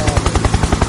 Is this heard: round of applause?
no